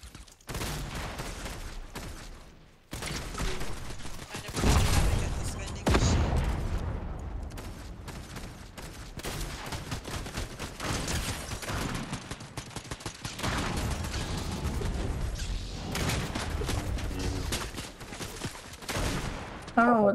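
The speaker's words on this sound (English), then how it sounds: "I forgot how much the breacher shotgun breaches things." Breacher shotgun blasts in Fortnite, punching through brick walls: loud, dense bursts of gunfire and crashing impacts that come in clusters across the stretch, with a voice talking now and then between them.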